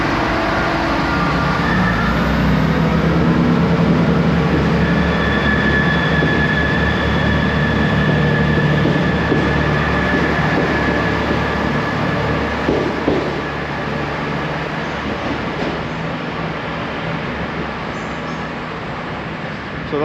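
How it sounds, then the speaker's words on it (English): A passenger train rumbles steadily past, loud and continuous with a faint wheel squeal, gradually easing off toward the end. "That's the train heading back down to Paignton."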